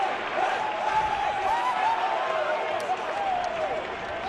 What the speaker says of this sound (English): you hear the crowd with the chant of Poppy